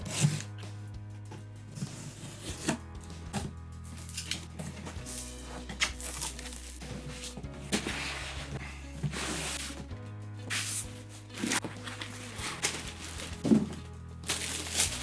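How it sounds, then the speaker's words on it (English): A PC case being unboxed: cardboard rustling, plastic wrap crinkling and soft thunks of packaging being handled, close and fairly quiet over low background music. "Right then, let's unbox the case."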